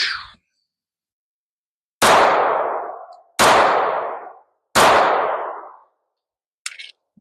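Three loud .45 rounds from a Rock Island 1911 pistol strike a steel target outdoors, each a sharp crack with a long ringing decay, evenly spaced about a second and a half apart, followed by a brief faint clink.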